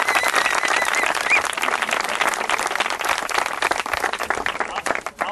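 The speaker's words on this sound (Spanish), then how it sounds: "Y ahora el aplauso os lo pido para todos vosotros." An audience applauds at a gathering before a historical reenactment, with dense, close clapping running continuously and tapering near the end, a few crowd voices mixed in.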